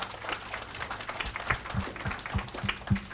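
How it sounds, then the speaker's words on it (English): Applause from the audience at an annual college debate, a brief scattered round with a few distinct nearby claps punctuating the general patter. "A wide round of applause and thanks to all the participants who made the event a memorable one."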